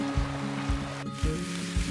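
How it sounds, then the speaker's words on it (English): Rushing mountain creek water near Lone Pine, a steady broadband wash with low surging pulses about every half second, close and continuous, with no voices. "The sound of the rushing creek, just music to my ears."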